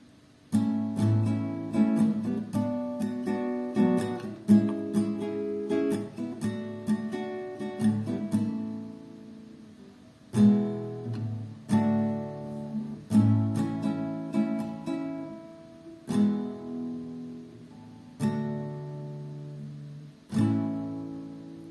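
An acoustic guitar plays the third verse of a song in a bright chord pattern, mostly strummed with some single struck chords, pausing briefly between phrases and played solo without talking.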